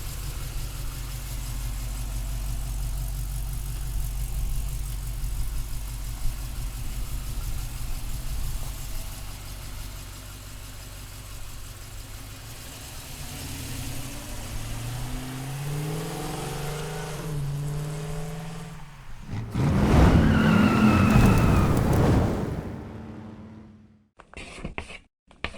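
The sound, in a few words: 1969 Chevrolet Camaro resto-mod with LS1 engine revving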